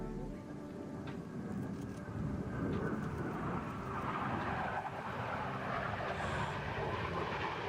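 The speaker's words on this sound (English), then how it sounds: "those are the Navy Blue Angels" Navy Blue Angels jets roar past overhead as a broad, rushing rumble that swells and holds, heard from the ground amid outdoor noise.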